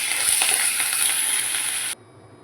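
Mustard seeds, dried red chillies and curry leaves sizzling in hot oil for a tempering for bottle gourd kootu: a loud, close, continuous crackling hiss that stops abruptly near the end.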